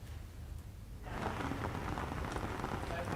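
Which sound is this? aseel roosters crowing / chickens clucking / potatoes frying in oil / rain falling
rain falling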